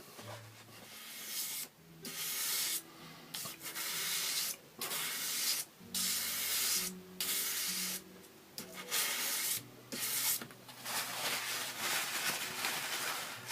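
Steel knife blade drawn across a wet 1000 grit whetstone in repeated rasping strokes, each pass a soft hissing scrape separated by brief pauses, close and steady with no talking.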